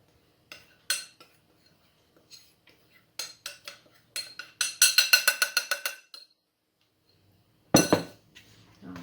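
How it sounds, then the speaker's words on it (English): Fruit being stirred into a creamed fruit-cake batter in a bowl, giving a series of sharp clinks and scrapes of a utensil against the bowl, with a quick burst of rapid taps in the middle and one loud knock near the end. "I'll give that a stir in."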